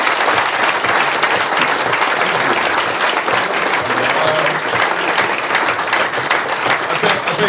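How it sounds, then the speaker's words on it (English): A pub crowd at a rugby podcast event claps steadily for several seconds, a dense, even round of applause with some voices mixed in. "So just a round of applause, please,"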